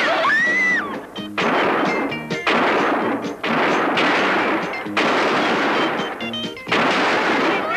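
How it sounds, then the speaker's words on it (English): Rifle gunfire in a western film shootout: loud, rapid bursts of shots come in dense volleys, separated by brief gaps. "I'll get the rifle. You all keep firing."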